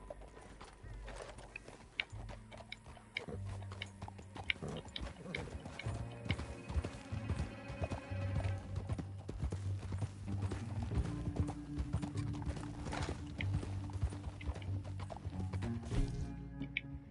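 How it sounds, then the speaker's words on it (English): Horse hooves gallop in a steady, rapid clip-clop in Red Dead Redemption 2, running continuously over a dense game soundscape with music and ambience, loud throughout. "Back on your horse, let's get after them."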